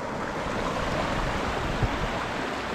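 Thermal water river at El Arenal in the La Primavera forest, a steady broadband rush of flowing water close by, continuous and unbroken, with no voices.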